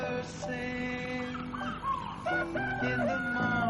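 A rooster crows repeatedly at dawn in a rural Nigerian setting, loud clear cock-a-doodle-doo calls with fowl clucking around it.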